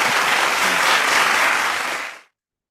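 An audience claps steadily in a dense, continuous burst at a Monday Club gathering honouring a couple, sustained for about two seconds before stopping abruptly into silence.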